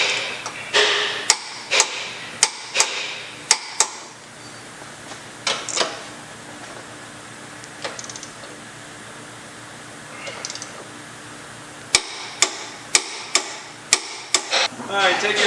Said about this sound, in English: grab your torque wrench. We're going to set it to 140 foot-pounds, and we're going to tighten all the 21mm blue bolts.